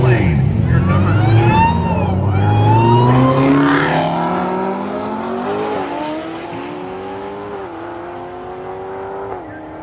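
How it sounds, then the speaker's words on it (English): A Charger race car accelerates hard in a roll race, its engine note climbing steadily and staying loud throughout, with an announcer talking over it. "Micah England in the right lane out of North Carolina, the 16-level Charger"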